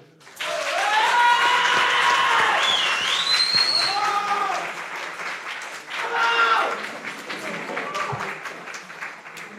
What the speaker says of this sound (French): on peut à nouveau tous les applaudir